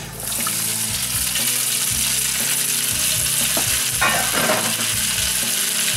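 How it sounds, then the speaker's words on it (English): Loud, steady sizzling of drained linguine frying in a hot pan, a constant crackle with occasional stirring scrapes. "You can hear it sizzling pretty good."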